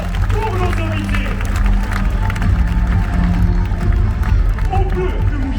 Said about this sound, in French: Une salle d'applaudissements pour nos invités.